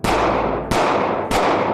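Three loud, sharp gunshots fired at regular intervals of about half a second, each cracking sharply and then decaying quickly, a sound effect in a radio advertisement.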